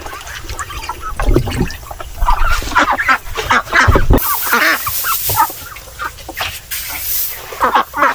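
Peking ducks quacking and chattering together in a busy flock, calls overlapping nonstop, fairly close and loud.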